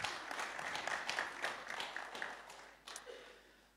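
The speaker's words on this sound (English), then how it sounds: "Come on, shall we give them a round of applause?" A church congregation applauds during a Sunday service, a fairly quiet, distant spread of clapping that holds steadily before tapering off near the end.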